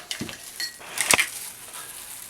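Apple juice with sugar stirred in a glass or cup: a quick series of close metallic clinks and scrapes from a spoon, the loudest rattle in the middle, heard alone with no talking.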